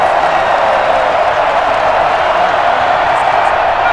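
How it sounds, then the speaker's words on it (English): A stadium crowd cheers and murmurs steadily at a distance in the Madden NFL 21 football video game, a constant wash of noise with no talking. "Crowd getting in it a bit already."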